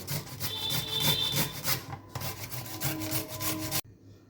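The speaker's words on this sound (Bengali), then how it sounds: "বিটটা আমি এইভাবে স্ট্যাপারে ঘষে নিয়েছি" Raw beetroot rubbed against a metal grater in a home kitchen gives a steady run of close, loud rasping strokes, each a rough scrape, before stopping abruptly near the end.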